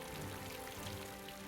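Torrential rainfall pours down in a steady, dense hiss with a low rumbling undertone, continuous and fairly quiet throughout with no voices.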